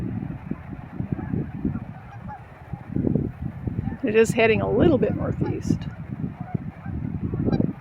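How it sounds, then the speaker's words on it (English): Geese on the water honk several times in the middle distance, a burst of calls over gusty wind, while someone talks throughout, with wildfires burning to the south. "Oh, poor geese out there."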